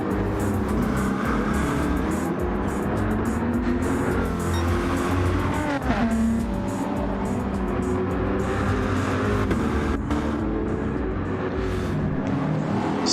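Race cars in a sim racing league race, engines droning continuously on track with shifting pitch as the cars run close together, loud and steady throughout.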